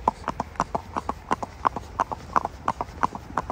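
Horse hooves clip-clopping steadily on a hard surface during a winter ride on a horse farm, a brisk, even rhythm of sharp, close hoof strikes.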